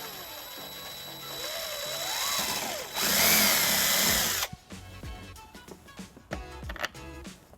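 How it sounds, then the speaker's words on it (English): A power drill bores a 3/16 inch hole through a bumper bracket on a 2016 Kia Sorento, a loud rising whine followed by a higher strained burst, then spluttering bites as the bit breaks through. "Using the bracket as a template, we're going to drill a 3/16 hole."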